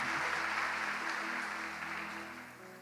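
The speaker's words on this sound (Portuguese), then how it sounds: "Você pode aplaudir ao Senhor?" A church congregation applauds during a prosperity celebration service, a soft, steady wash of clapping heard at a distance that slowly fades.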